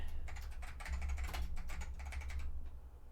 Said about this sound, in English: Okay, that was my keyboard.